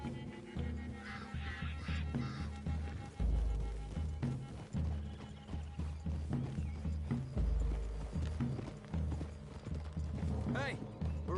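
Horse hooves clip-clopping along a wooded trail in the Red Dead Redemption 2 western game, a steady rhythmic walk under a layer of ambient game music and occasional mechanical clicks.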